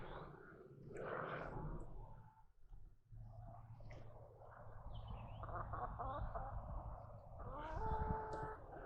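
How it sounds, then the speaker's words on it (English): Backyard chickens cluck and squawk nearby in a series of short, uneven calls, some louder bursts near the end, over a low background hum. "Here's the chickens."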